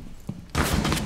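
Gunfire in the video game Rainbow Six Siege during a Consulate team deathmatch: a couple of soft thuds, then a sudden loud burst of rapid shots that continues to the end.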